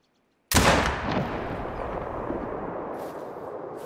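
A single loud rifle shot fired at a grizzly bear in The Hunter: Call of the Wild hunting game, a sharp crack out of silence followed by a long rolling echo that slowly fades.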